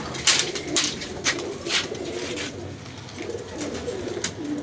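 Pigeons coo nearby in soft repeated low calls, with occasional wing flutters and faint chirps against a light outdoor background.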